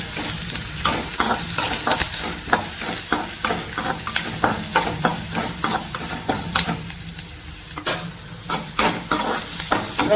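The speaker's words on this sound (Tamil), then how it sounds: "வெங்காயம் வதக்கிக்கலாம்." Onions sauté in a pan for an eggplant dish. A steady, close frying sizzle runs throughout, broken by frequent quick scrapes and taps of a spatula as the onions are stirred.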